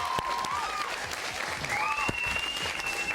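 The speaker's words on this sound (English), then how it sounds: "Well, everyone should clap now for Cordrazine." Steady applause from an audience fills the whole stretch, a continuous dense patter of clapping with a few whistles rising over it.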